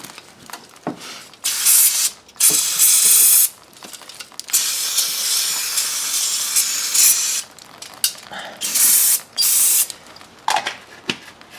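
Close aerosol can spraying in repeated hissing bursts on the parking brakes of a 2008 Hyundai Elantra, some short, one long sustained blast, with brief pauses between.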